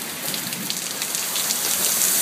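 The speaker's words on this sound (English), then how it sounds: "Why are you sitting in the rain?" Steady rain pours down outdoors during a hurricane, a dense, even hiss of drops on surfaces that grows slightly louder, with no voices.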